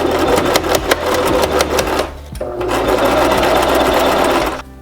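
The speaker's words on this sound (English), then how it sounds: "I sew these together but on the flat way, not to make a proper seam" A sewing machine stitches long flat seams in fabric for a DIY bed canopy, running loud and steady in two continuous bursts with a brief slowdown in between.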